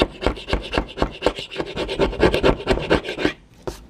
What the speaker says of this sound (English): Next is a flathead screwdriver. Works pretty well. You could also use it for scraping purposes.